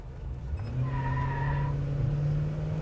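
1975 Cadillac Sedan DeVille accelerating hard in a 0-60 run, a steady engine drone climbing in pitch with a thin high whine over it, heard from inside the car with no talk.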